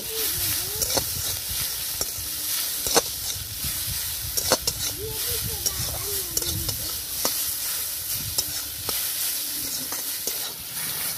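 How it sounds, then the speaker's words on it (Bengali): Mustard flowers fry in a pan with salt, giving a continuous soft sizzle with repeated scraping stir strokes and clicks, close and moderately loud. "এবার সবকিছু আরো 2 মিনিট ভেজে নেব"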